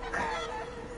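A rooster crows once, briefly and fairly close, with a sustained tonal call that fades quickly.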